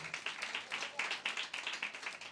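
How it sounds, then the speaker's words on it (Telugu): A church congregation claps in a steady patter of many hands, moderately loud and continuous throughout, with no voices standing out. "వారిని బట్టి మనం చప్పట్లు కొడదాం ఒకసారి"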